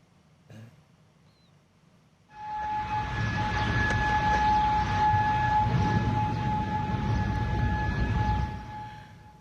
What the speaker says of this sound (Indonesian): sirine berbunyi di seluruh penjuru kota Kuwait pada Senin pagi.